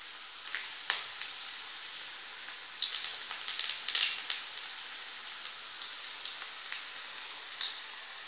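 Potato hearts fry in hot oil with a steady, soft sizzle, dotted with small crackles and pops throughout.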